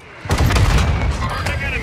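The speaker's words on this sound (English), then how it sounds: "Mortar strike inbound." Mortar strike explosions in Call of Duty Warzone 2 hit as a heavy, rumbling cluster of booms that rolls on continuously after a sharp onset, loud and close.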